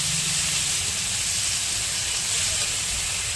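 Ginger, garlic and cumin paste sizzles and hisses steadily in a hot pan while being stirred for an aar fish curry, a continuous close, bright frying noise from start to end.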